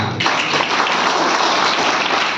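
Audience applause for a performing artist at an arts program, dense sustained clapping that starts abruptly and fills the space loudly and evenly throughout.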